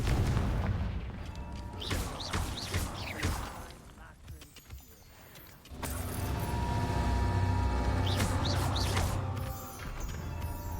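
A Confringo fire-spell explosion in Hogwarts Legacy, with booming blasts and crackling bursts over a loud game soundscape, a quieter stretch in the middle, then a sustained heavy rumble.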